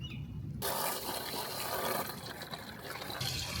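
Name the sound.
water hose filling a pond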